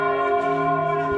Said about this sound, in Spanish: tenemos esta iglesia, miren, están sonando las campanas a cada ratito